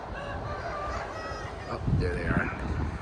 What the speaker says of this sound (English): My dad's chicken coop. It's pretty big.